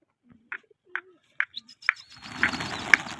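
A pigeon coos in a short series of soft, evenly spaced calls, close and clear, before a louder burst of mixed noise and chirps takes over at the end.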